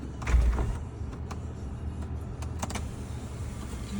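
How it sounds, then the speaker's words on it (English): Toyota Camry XSE electric sunroof motor opening and tilting, a faint steady motor whir inside the car cabin with a soft thump early and a few light clicks, no talk. "Both windows go up and down as they should. And sunroof."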